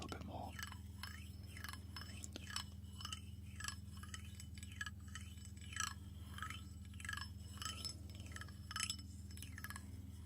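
Jelly beans tap and clink faintly against glass in a quiet, close-miked ASMR setting, a soft repeated patter with gentle whispering alongside.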